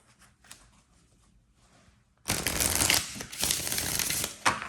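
Tarot cards are handled quietly at first with a few faint taps, then riffle-shuffled in a loud, dense burst of rapid flapping close by that carries on to the end.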